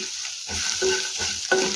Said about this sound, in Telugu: వేసేసుకొని కొద్దిగా ఫ్రై చేసుకుందాం